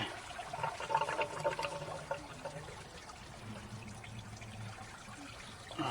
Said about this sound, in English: You're going to lose some coolant.